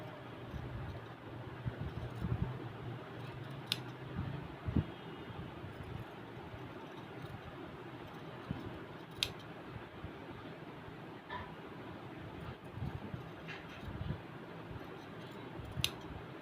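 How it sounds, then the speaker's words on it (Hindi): Scissors trim extra fabric off a trouser in a quiet room, giving a series of faint, sparse snips spread across the clip. "इसके बाद हम इसकी एक्स्ट्रा फैब्रिक जो है इसको कट कर देंगे।"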